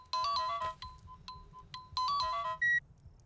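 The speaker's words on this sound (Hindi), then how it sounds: "माया का फोन।" Melodic mobile phone ringtone chiming in repeated bursts of bright tones, with short pauses between phrases and a higher beep near the end, heard alone in a quiet room.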